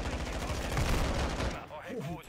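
Rapid, continuous automatic gunfire from a video game gun rattles loudly for about a second and a half, then cuts off as a voice speaks briefly.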